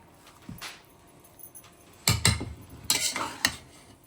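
A spoon scrapes and knocks against a pot while colour is stirred into cooked rice, several sharp clanks and scrapes in quick bursts, near and fairly quiet, with no talk.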